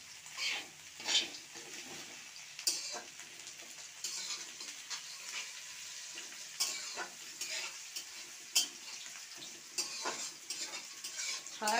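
Soybean chunks are stirred and fried in a pan for a soybean-and-potato dish, with a constant sizzle broken by repeated scraping and clinking strokes of a spatula, close and fairly quiet.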